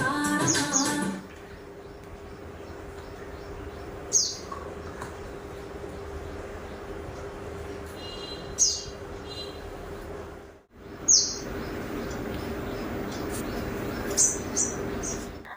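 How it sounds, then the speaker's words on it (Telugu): A few short, high bird chirps come at spaced intervals, around four separate calls, over a steady low household hum during home cleaning, fairly faint and with no talking. "నాకు ఒక బర్డ్ చీపింగ్ సౌండ్ వినిపించింది"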